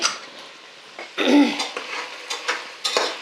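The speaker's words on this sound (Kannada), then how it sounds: "ಸಣ್ಣ ಫ್ಲೇಮಲ್ಲಿ ಕಾಳು ಉರಿತಾ ಇದ್ದೀನಿ" Black field beans roast in a pan over a low flame, heard as a quiet dry rattle with a few scrapes and clinks of a spatula against the pan, one louder stir in the middle.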